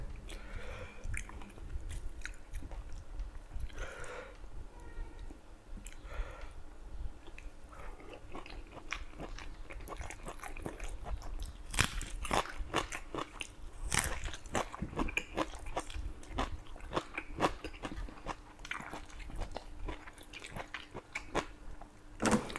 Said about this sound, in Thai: ผมกินมะเขือเนี่ยผมไม่ค่อยมักกินเม็ดมันครับ